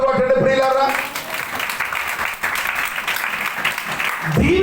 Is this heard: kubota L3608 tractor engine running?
no